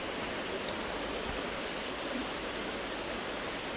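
A river current rushes at a fair pace around a huge boulder in winter, after a flood. The water makes a steady, dense roar that holds constant throughout with no voices.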